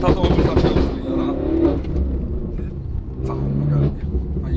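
A BMW M5 F90 at an outdoor BMW festival growls and revs in a deep, steady rumble, with crowd chatter and voices mixed over the engine noise.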